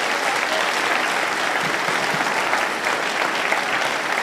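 Audience applause at a school holiday concert, a dense, steady clapping that fills the whole stretch evenly, fairly loud and close, with no talk over it.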